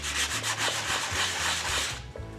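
Sanding block rubbed over a wooden model house wall frame, a steady close scratchy rasp in quick back-and-forth strokes that stops abruptly near the end.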